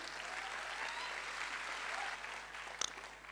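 Steady applause from an audience at a Hindi-language network marketing seminar, a dense wash of clapping that holds throughout with a couple of sharper claps near the end.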